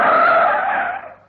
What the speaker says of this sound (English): He screeched his car to a halt at the back of the stands.